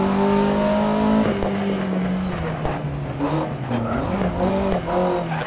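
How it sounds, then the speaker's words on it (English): Loud engine of an Alpine A110 rally car on a night stage in Dirt Rally. The revs climb and drop through gear changes, with some tire scrabble and no talking. "It's in the Alpine A110 and it's a night stage."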